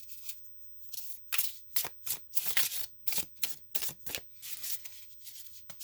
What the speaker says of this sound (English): So the first shuffle.